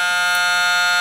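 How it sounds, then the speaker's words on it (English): A loud, steady electronic buzzer in a classic Ford F250 slant-nose Class C motorhome drones continuously with a harsh, bright tone, unbroken and close. "Now that's a buzzer."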